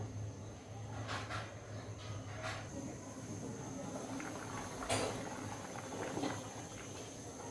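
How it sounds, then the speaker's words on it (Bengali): Tilapia kalia gravy simmers in a covered pot, giving off a faint, continuous bubbling with occasional soft pops and a low background hum. "ঝোল ফুটে উঠেছে,"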